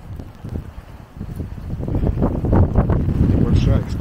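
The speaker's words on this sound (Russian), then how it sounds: "И ветер, кстати, у нас очень сильный." Strong wind in wet, bad weather at Sutlema, Estonia, roars and buffets the microphone in a steady low rumble that grows louder and gustier toward the end.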